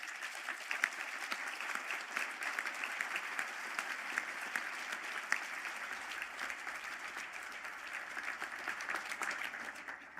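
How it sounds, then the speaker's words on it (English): An audience at a college conferring ceremony in Galway applauds graduates, a continuous dense patter of many hands clapping heard from a distance at low volume. "round of applause"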